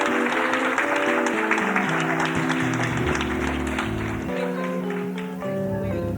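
Applause from a studio audience at a music variety show, moderately loud and continuous, with sustained musical tones running underneath.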